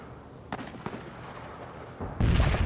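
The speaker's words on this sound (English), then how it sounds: "Artillery strike requested on coordinates." Artillery strike explosions in the war video game World in Conflict: two sharp distant blasts land in quick succession, followed by a heavier, louder rumbling impact at the end.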